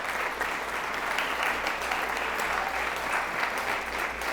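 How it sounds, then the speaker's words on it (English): Audience applause at a sponsored dinner event, a steady dense wash of clapping from a crowd sustained throughout at moderate distance with no speech. "let's give a round of applause for all of our sponsors"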